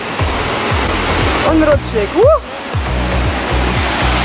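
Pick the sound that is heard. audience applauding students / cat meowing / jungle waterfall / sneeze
jungle waterfall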